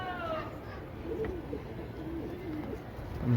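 Domestic pigeons at a pigeon house give soft, repeated throaty coos that rise and fall over quiet background noise, with a louder burst of cooing close by at the end.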